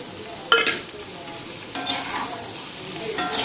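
Brinjal and onion frying and being stirred in a pan, with a sharp scrape and sizzle at the start followed by a steady hiss and further stirring bursts, close and with no talk.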